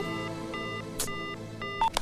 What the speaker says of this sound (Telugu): ఏంట్రా సడన్ గా ఫోన్ కట్ చేసినావు?